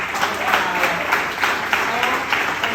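An audience at a tango milonga memorial event applauds steadily, a dense wash of many hands clapping at moderate volume throughout, with no talking over it.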